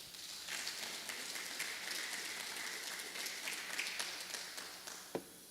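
Applause from a congregation during a Sunday church service in Tzeltal, a broad steady wash of clapping filling the room for several seconds with one sharp tap near the end.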